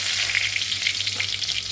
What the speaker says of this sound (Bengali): এখানে একটু জিরে ফোড়ন দেবো